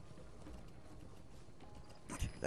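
A horse's hooves clip-clop steadily in Metal Gear Solid 5: The Phantom Pain, faint beneath game ambience, with a louder thud and rustle at the very end.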